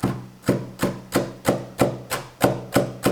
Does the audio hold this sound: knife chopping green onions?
yes